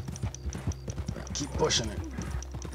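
Horse hooves clip-clop at a gallop in Red Dead Redemption 2, a quick steady rhythm of hoofbeats under someone talking.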